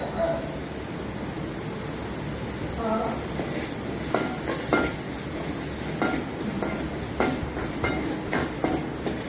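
Onions and tomatoes sauté in a pan for tomato kurma, a constant sizzle under repeated metal spoon scrapes and taps against the pan that grow busier toward the end.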